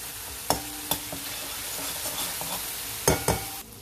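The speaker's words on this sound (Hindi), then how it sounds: "अब इस टमाटर को थोड़ा सा हम भून लेते हैं" Tomato masala sizzles steadily in hot oil, broken by a few sharp knocks and scrapes of a stirring spoon against the pan, close and fairly loud, with no talk.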